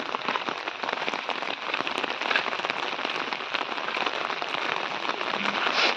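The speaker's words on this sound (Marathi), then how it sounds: "पाऊस कंटिन्यू चालला आहे जातच नाही आहे" Steady rain pours along a village lane near Bhuibawda, a dense, unbroken hiss of drops on surfaces that stays close and continuous with no voices over it.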